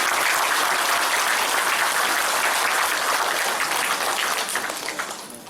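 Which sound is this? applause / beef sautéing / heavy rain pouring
applause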